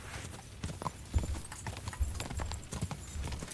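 Horse hooves clip-clop in Kingdom Come: Deliverance 2, irregular thudding steps at close range with no talk over them.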